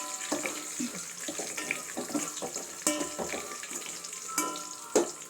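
Frying on a medium flame for bagara rice: an irregular sizzle and crackle with sharper pops and stirring clinks scattered throughout, moderately close.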